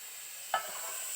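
Wheat dough balls roast over a fire with a steady, faint sizzling hiss. One soft knock breaks the hiss partway through, and no one speaks.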